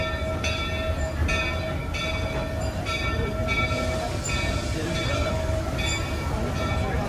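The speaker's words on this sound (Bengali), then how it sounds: "ট্রেনের মাধ্যমে পুরা নটবেরি ফার্মটা চক্কর দেওয়া যাচ্ছে" Heritage train ride around Knott's Berry Farm amusement park, a continuous loud rumble of rolling rail cars with a sustained whistle tone and rhythmic clacks, heard from on board with faint voices.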